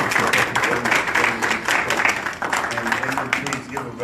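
Audience applause at a live mayoral debate in Seattle, a steady wash of many hands clapping for about four seconds, loud and sustained with a little murmuring underneath.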